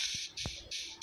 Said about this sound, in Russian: Попугай.